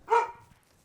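A dog in a children's cartoon gives one short, bright bark that is loud and close. It fades quickly into quiet.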